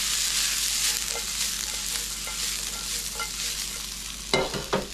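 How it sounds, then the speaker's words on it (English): Chips and vegetables fry in a pan for a Mexican meal, with a steady close sizzle and repeated scraping stirs, plus a few sharper clatters near the end; no talking. "Keep mixing our pans and our chips around."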